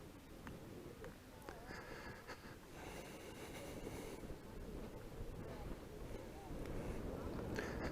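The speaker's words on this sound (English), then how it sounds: "Don't know if you can hear the wind." Wind rushes across the Scottish coast near Applecross, a faint, steady roar with gusty buffeting on the microphone that swells slightly toward the end, with no clear speech over it.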